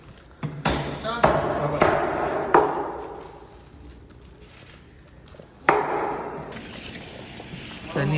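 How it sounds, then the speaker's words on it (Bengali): Mutton pieces being washed with water in a kitchen, with splashing, sloshing handling and knocks against the bowl, and a voice speaking over parts of it. "নিয়ে আসলাম আজকে এখন কিচেনে ধোয়ার জন্য, ভালোভাবে ধুয়ে নিচ্ছে।"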